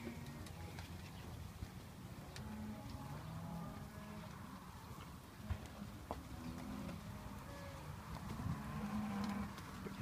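Cattle at a sale, including Braford heifers, lowing repeatedly in the background over a steady murmur of crowd and yard noise, the moos rising and fading for about ten seconds.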